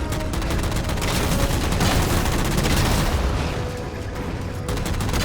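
Sustained gunfire in the video game Halo 4 while shooting down enemy jammers, a dense rapid barrage of shots and booms, loud and continuous throughout.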